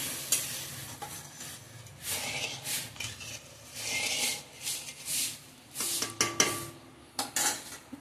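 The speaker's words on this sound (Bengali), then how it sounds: "এবারে আমি আমার যতটুকু গ্রেভি দরকার আমি অল্প একটু জল অ্যাড করলাম" Water is added to a pan of sizzling tengra fish curry gravy, bringing bursts of hissing sizzle mixed with stirring scrapes and clinks of a utensil against the pan, close and intermittent.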